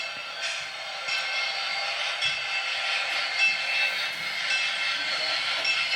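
A toy train engine runs along its track, reversing onto the main line, giving a steady, continuous whirring rumble with a hissing edge throughout, close and unbroken, with no voices.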